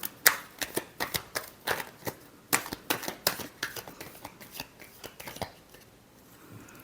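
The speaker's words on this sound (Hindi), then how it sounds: "Last shuffle." Tarot cards are shuffled in quick riffling bursts, a string of sharp papery flicks in an uneven rhythm that thins out toward the end, close and quiet with no voice.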